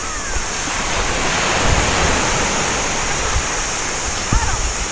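Sea waves wash steadily at Tung Fuk beach on Lantau Island, Hong Kong, a continuous loud roar of surf with wind buffeting the microphone.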